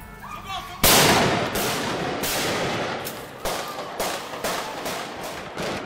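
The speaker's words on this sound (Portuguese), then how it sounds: "Os tiros e as explosões do atentado contra a revista francesa Charlie Hebdo" Sharp gunshots and explosive blasts from the terrorist attack on the French magazine Charlie Hebdo in Paris ring out in a loud, ragged series of cracks and booms with reverberating tails, and faint voices are heard beneath them.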